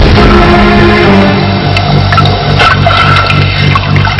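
Strong sea waves churning and washing in a steady, loud broadband roar with a low rumbling undertone, continuous throughout without speech.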